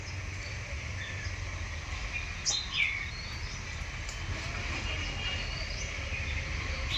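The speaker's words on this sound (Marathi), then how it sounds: "आता बुलबुल आणि चिमण्या ते खात आहेत बसून बसून" Bulbuls and sparrows peck at spoiled jaggery in a yard, giving scattered short chirps and tweets over a steady low background hum, with no talking.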